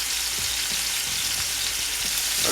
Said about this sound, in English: we're going to keep frying them here for another probably minute on this side